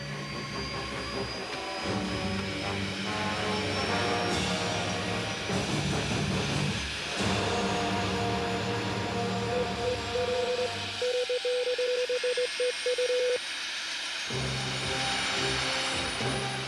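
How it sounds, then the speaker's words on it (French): Aérospatiale Dauphin helicopter spinning up its main rotor, a loud mechanical whine and rising turbine tone with rumbling engine noise, a brief lull then the steady drone returns, with music or narration mixed in. "contact et mise en marche du rotor principal"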